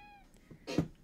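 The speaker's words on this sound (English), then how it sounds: "No, you just wanna meow and look at me all confused?" Cat meows in the Supermarket Simulator game, a brief soft call followed by a louder, drawn-out meow near the end of the short moment, set against a quiet game background.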